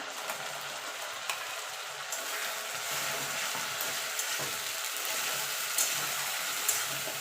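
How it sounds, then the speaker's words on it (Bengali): Ginger, garlic and chili paste sizzles in a pan with onions for a Bengali mutton curry, a close, even frying hiss with soft stirring scrapes and a few small clicks. "দিয়ে দেবো আদা রসুন আর লঙ্কা বাটাটা।"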